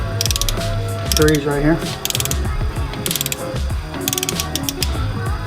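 A hand ratchet clicks rapidly in bursts while snugging up cylinder head bolts during a head gasket repair on a Honda Prelude, close and loud, with brief pauses between strokes and a few quiet words spoken.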